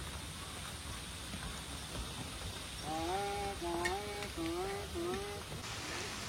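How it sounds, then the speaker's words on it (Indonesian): Heavy rain pours steadily on a mountain hiking trail, a dense close hiss throughout; from about three seconds a few short wavering bird-like whistles sound over the downpour. "besar guys, hujan besar, mulai turun hujan."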